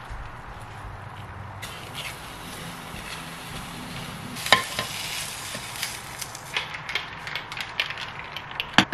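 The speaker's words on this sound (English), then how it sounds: "we're just gonna have to use some of the oil from the sun-dried tomatoes as the oil for our eggs so that it doesn't stick to the bottom of the pan" Eggs frying in a pan with oil from sun-dried tomatoes, a soft steady sizzle with clinks and scrapes of utensils growing busier toward the end, close and fairly quiet.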